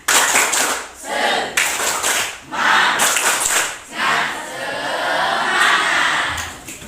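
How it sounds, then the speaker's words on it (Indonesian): A class group in a Hindu religion lesson claps a rhythmic spirit clap in loud, repeated bursts with short pauses between, close and full-sounding, with some voices mixed in. "Lihatin, tepuk semangat"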